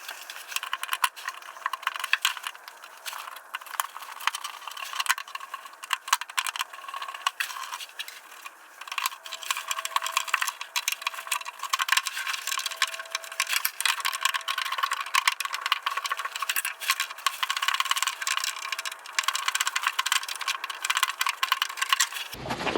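Small metallic clicks and scraping rattles from screws being worked loose on a Jeep Willys dimmer switch, a steady busy mechanical patter running close and continuous for about twenty seconds.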